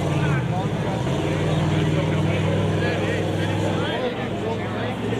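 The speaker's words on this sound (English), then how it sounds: "That was car 890 that just went through." An off-road UTV race car passes on a desert course during an Ultra4 race at Badlands Off Road Park, a loud engine drone that holds steady and fades slightly near the end, with a commentator talking over it.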